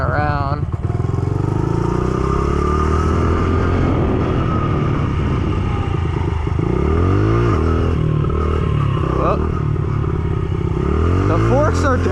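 Motorcycle used for stunt riding practice, its engine revving and rising and falling in pitch continuously, close and loud, with wind noise and a rider talking over it.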